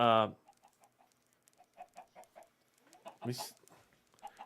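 A series of short, soft Minecraft chicken clucks in an uneven rhythm, opened by a sharp squawk and broken later by another brief cry.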